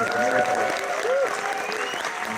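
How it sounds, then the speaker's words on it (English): An audience at a movie talk applauds for the film's director, a loud continuous wash of clapping with whoops and cheers rising above it, sustained throughout. "I think y'all can join me in one other round of applause for our incredible director"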